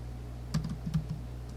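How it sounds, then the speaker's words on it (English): A few keystrokes on a computer keyboard as the word infinity is entered, short soft clicks in two small clusters over a steady low hum, close by with no talk. "So I type the word infinity."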